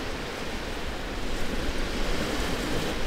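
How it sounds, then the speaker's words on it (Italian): Sea waves surging and washing onshore in a steady broadband roar, close and continuous with slight swells in loudness, no voices present. "Lo senti il mare?"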